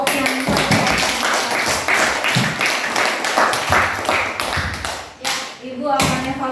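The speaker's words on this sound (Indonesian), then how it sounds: "Coba kita beri aplaus dulu buat 3 kelompok yang" Classroom applause for three student groups, a burst of clapping and tapping from many hands mixed with chatter and voices, fading briefly before picking up again.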